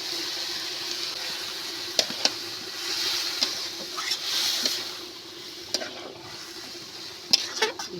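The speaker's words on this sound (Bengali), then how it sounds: "ডালটা দিয়ে আমি খুব সুন্দর মতো করে কষিয়ে নেব" Boiled lentils being stirred and fried with drumstick leaves and potatoes in a pan, a steady soft sizzle with a few sharp spoon scrapes and taps scattered through, close and alone.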